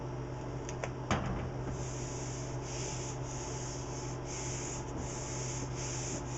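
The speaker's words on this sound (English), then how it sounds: "I can turn it over and rub it better to make sure it's all adhered" Stencil film being rubbed onto a Yudu screen-printing screen, a steady soft scraping and rubbing texture that runs throughout at close range, over a constant low hum.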